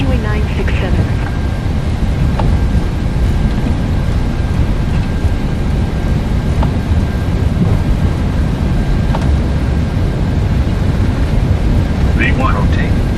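A Boeing 737-900ER in the PMDG flight simulator rolls down the runway for takeoff, a dense, steady low engine rumble filling the whole stretch, with faint clicks and brief cockpit tones on top.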